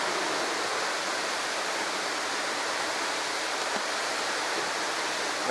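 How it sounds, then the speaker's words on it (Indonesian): Steady rushing roar of water falling at Curug waterfall near a village, a dense broadband wash with no pauses, close and continuous throughout. "Welcome to my Curug waterfall."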